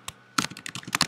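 Computer keyboard typing in quick bursts of key clicks, close and clear, with a short pause after an opening tap before a steady run of keystrokes.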